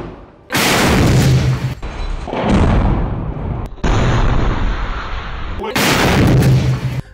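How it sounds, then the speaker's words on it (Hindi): Explosions and gunfire ring out in Khan Younis as Al-Qassam Brigades fighters attack IDF military vehicles, including a tank. Loud, harsh booming blasts and bursts of fire come in several abrupt back-to-back segments. "अलकासिम ब्रिगेड के लड़ाकों ने आईडीएफ के कई सैन्य वाहनों को उड़ा दिया"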